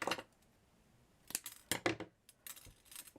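Scissors snip through chiffon fabric while a flower is being made, giving a few quick, crisp close cuts separated by short pauses.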